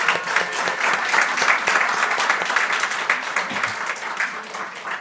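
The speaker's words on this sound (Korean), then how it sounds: "우리 규진이를 위해 박수 부탁드립니다" Steady, dense applause from a church congregation during Sunday worship fills the space, many hands clapping at once without letting up.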